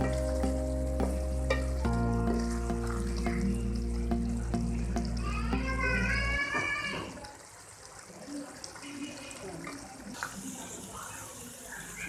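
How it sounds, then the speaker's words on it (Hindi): Minced meat keema sizzling in a pan as it is stirred, a loud steady frying hiss with scraping and clinking before it drops to quieter crackles. "इसको हम तकरीबन 5 मिनट मज़ीद भून लेते हैं इसमें।"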